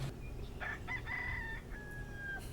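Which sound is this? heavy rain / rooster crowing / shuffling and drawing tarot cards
rooster crowing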